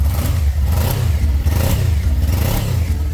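The small engine of a stock 2019 Suzuki GSX250R sports motorcycle revs steadily up close, a low throbbing rumble rising and falling in waves with a light mechanical clatter.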